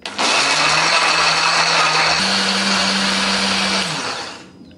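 A blender grinds chili, candlenut, turmeric, ginger, garlic and shallot with a little water into a spice paste, a loud steady motor whir that holds for about four seconds, shifts pitch slightly midway, then stops.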